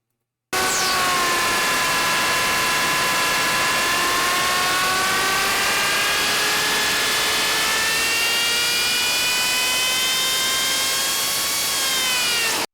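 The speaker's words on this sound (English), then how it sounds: "That noise is the supercharger." A supercharged car engine revs with a loud, steady whine that climbs gradually in pitch, with rising harmonic tones held continuously for over ten seconds and a sharper lift near the end.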